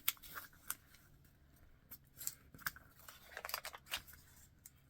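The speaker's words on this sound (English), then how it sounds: "So you're going to take your square and then accordion fold it as thin as you can." Paper being accordion folded into a square for upcycled bunting gives a series of close, crisp creasing and crinkling snaps, irregular and quiet, with no voices.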